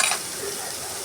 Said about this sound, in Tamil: எண்ணெயில் வெங்காயம் சேர்த்தாச்சு